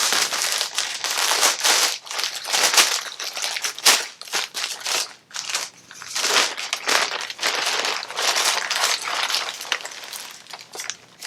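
A Supreme Fall/Winter 2020 package of tees and accessories being opened: dense, steady crinkling and rustling of wrapping, with sharp crackles and handling noises throughout, close up and without speech.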